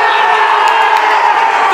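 A football crowd roars and cheers at the final whistle of a National Premier Leagues Victoria match between Bentleigh Greens and South Melbourne, a loud, dense, sustained wall of voices.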